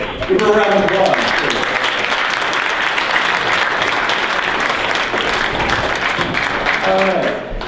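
An audience bursts into loud, sustained applause at a magic show, steady clapping filling the room for several seconds, with brief speech at the start and end.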